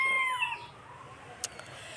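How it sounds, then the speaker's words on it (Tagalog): A rooster crows once at the start, its call trailing off, followed by quiet surroundings and a faint click. "Manok day ni."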